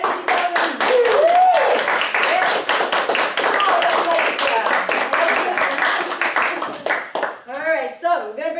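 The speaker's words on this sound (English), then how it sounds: "let's have a big round of applause here" A studio audience claps and cheers in a loud, continuous round of applause at a UFO-themed comedy talk show, with whoops and voices mixed in and a voice rising at the end.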